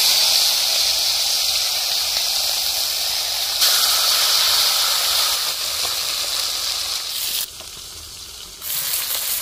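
Pieces of mura fish frying in hot oil in a kadhai in a village kitchen, giving off a loud, steady, close hiss and sizzle that runs continuously with only a brief dip near the end.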